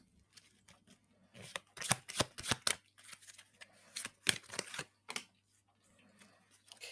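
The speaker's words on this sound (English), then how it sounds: "I'm just going to pull some cards first" Tarot cards are pulled and shuffled from a deck in a quiet room, with a series of crisp, close snapping and flicking bursts coming in uneven clusters, separated by short pauses.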